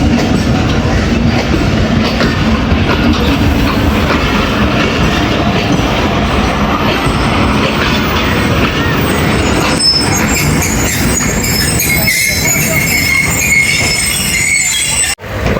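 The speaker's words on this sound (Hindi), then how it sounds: "डिपार्ट कर रही है 48 डाउन रहमान बाबा एक्सप्रेस अटक सिटी जंक्शन से" The 48 Down Rehman Baba Express departs Attock City Junction with a loud, steady roar of rolling coaches, clattering wheels and squealing rails, continuous and close for the whole stretch.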